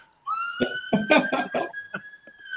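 An ambulance siren passes outside, a steady tone heard under several bursts of people talking.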